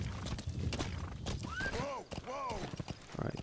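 Horse hooves clopping and a rising whinny in Metal Gear Solid V: The Phantom Pain, the neigh swelling midway as layered arching cries over steady in-game ambience and footfall clatter.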